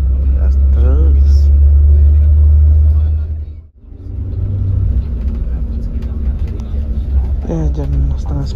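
Steady low engine rumble of an Akas Aurora sleeper bus cruising on a highway from Jember toward Jakarta's Poris terminal, briefly dipping before the drone resumes, with faint voices in the background.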